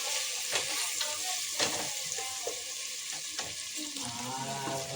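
Ginger, garlic and mint paste frying with onions in a pressure cooker, a soft steady sizzle with repeated scraping stirs and light clinks of a spoon against the metal.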